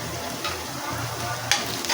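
Onions sautéing in a pan for garlic kulambu give off a steady low sizzle with soft stirring scrapes, ending in a brief louder clatter near the close.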